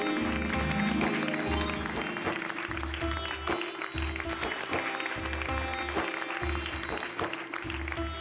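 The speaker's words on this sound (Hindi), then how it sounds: "भाई ऐसी महान आत्मा के लिए एक बार जोरदार तालियां" Studio audience applauding during an episode of a Hindi television comedy serial, sustained clapping that fills the clip, layered over a repeating low musical beat and scattered brighter accents.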